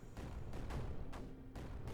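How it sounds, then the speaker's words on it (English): Cannons fire in the strategy video game Creeper World 4, a series of about four muffled booming shots spaced roughly half a second apart over a low rumbling bed. "those cannons will be more than sufficient"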